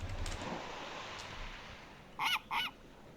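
Two quick honks from a bird in the Minecraft video game, close together and fairly clear over a faint hiss of game background noise.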